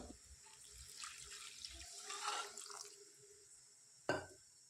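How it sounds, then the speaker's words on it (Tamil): Water poured into a pot of potato curry, a quiet, steady splashing stream lasting several seconds before a single sharp knock near the end. "இப்போ இதில் வந்து தேவையான அளவுக்கு தண்ணி சேர்த்துக்க போகிறேன்."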